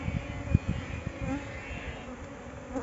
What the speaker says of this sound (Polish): Kolejna ramka to też jest pełno pszczoły.